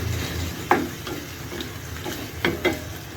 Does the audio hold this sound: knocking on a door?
no